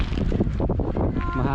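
Wind blowing across the microphone outdoors in a rose garden at Parque Oeste in Madrid, Spain, with loud, gusty buffeting rumble that swells and fades in uneven bursts.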